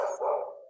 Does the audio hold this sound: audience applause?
no